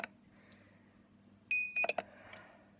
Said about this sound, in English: The one thing I don't like about this heat press is it beeps a lot.